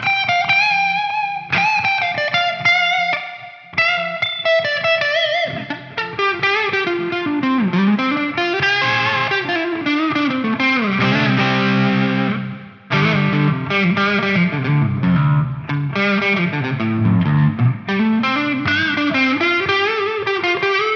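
Sustained electric guitar notes ring out with heavy, washy reverb from a Neunaber Expanse pedal, bending and sliding in a slow melodic line with brief pauses.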